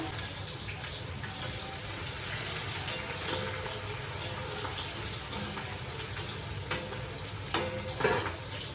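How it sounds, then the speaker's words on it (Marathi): Chopped onion fries in hot oil in a home kitchen pan, giving a continuous close sizzle with occasional stirring scrapes and clatters, steady and moderately loud throughout, with no voices. "कांदा मस्त फ्राय होतोय"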